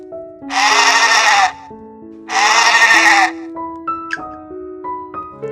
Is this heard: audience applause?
no